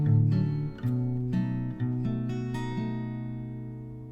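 Guitar plays a short melodic run picked with three fingers, part of a cover of a Backyardigans song, with clear sustained plucked notes over about four seconds and no talking.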